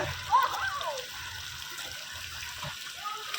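Water splashes and churns in a swimming pool at Maya Kanon Park in Kishoreganj, where children are bathing. A steady wash of broadband splashing runs throughout, with voices talking over it.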